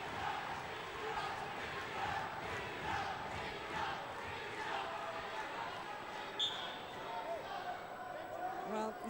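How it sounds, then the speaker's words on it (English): Indian supporters in a Commonwealth Games wrestling arena in Glasgow cheer on their wrestler, a continuous distant crowd roar with shouts rising and falling, while a commentator talks over it. "The Indian supporters cheering on their man here."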